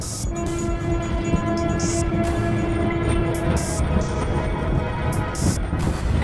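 A train rumbles steadily close by, with a sustained horn-like tone and a few sharp hissing bursts from the carriages.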